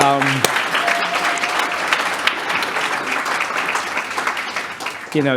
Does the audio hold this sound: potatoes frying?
no